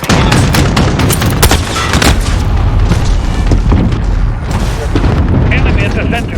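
Loud, dense video game battle gunfire mixed with heavy booming explosions, continuous bursts of shots crowding the whole stretch, with in-game radio voice callouts over the din.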